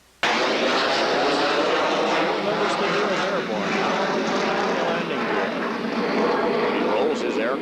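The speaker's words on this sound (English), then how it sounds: "He rolls his aircraft 360 degrees and continues to accelerate to 300 miles per hour." Blue Angels jet roaring loudly and steadily as it rolls and accelerates low over an airshow, a continuous near engine roar with an announcer talking over it.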